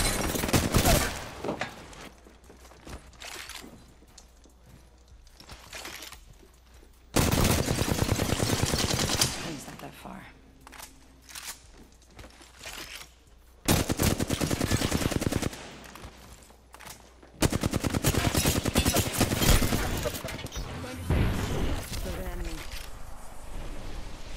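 Automatic gunfire from an Apex Legends match rings out in three loud sustained bursts, separated by quieter stretches of game ambience and occasional voice.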